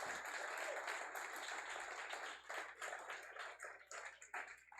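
A church congregation gives the Lord a strong round of applause during a sermon, a dense wash of clapping that starts full and thins into scattered claps toward the end.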